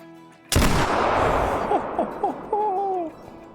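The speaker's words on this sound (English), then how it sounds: "Let's take one more shot." One loud, close muzzleloader rifle shot at 100 yards, a sharp blast that rolls into a long booming echo. Voices follow under the fading tail.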